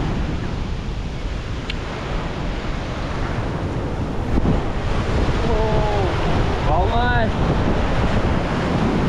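Ocean waves roll and crash against rocks on the Sri Lankan coast, a loud, continuous surf roar buffeted by wind noise, with a person speaking briefly partway through.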